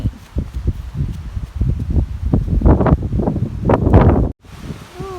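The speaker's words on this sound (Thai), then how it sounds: "เมื่อวานนี่ก็ลมแห้งมื้อนี้ก็ลมแห้งอีกแล้ว" Dry wind blows outdoors around a rural house, gusting against the microphone in loud, uneven buffets with rustling. The wind is close and fluctuating, then briefly drops out near the end.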